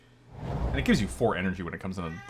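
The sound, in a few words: cat meowing loudly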